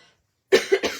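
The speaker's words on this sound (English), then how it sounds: "the thing with coughing like this" A short burst of three quick coughs close up, the first strongest, after a brief silence.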